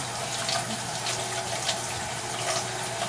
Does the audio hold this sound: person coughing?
no